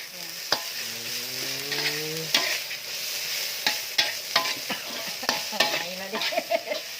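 Chicken and curry paste being stir-fried in a pan, with continuous sizzling and frequent sharp clacks of a spatula against the metal. A brief low, moo-like vocal tone sounds early on.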